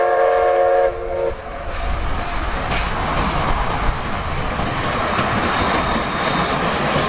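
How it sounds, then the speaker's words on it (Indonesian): A Thomas the Tank Engine toy train plays its sounds: a short whistle-like tone at the start, then steady, loud rattling train noise and rhythmic clatter, close by and with no talk. "Wow, yang ini kereta api Thomas"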